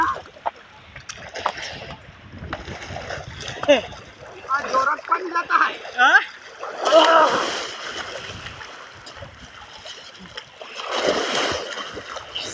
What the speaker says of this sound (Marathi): पाणी जोरात पाणी जात